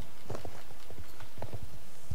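Horse hooves clop at a walking pace in Star Stable Online, a close, steady series of distinct hoof strikes over hard ground.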